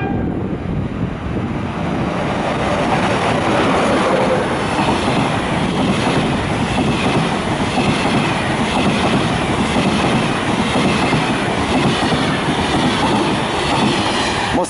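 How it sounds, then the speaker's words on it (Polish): An LKA passenger train pulls into Kutno station in Poland with loud, close, continuous rumbling and wheel noise, steady clickety-clack and faint wheel squeal throughout. "Pociąg osobowy LKA ze stacji Kutno wjedzie na tor 104 przy peronie trzecim."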